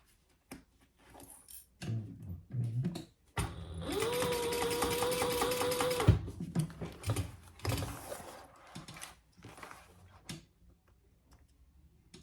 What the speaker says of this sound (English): So I'm just going to baste those in place.